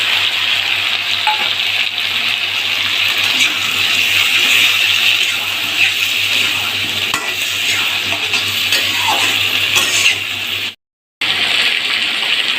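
Cauliflower fries in a pan with tomato and spices, the base for a potato and rohu fish curry; a loud, continuous sizzle runs with stirring scrapes close up, cut by a brief gap near the end.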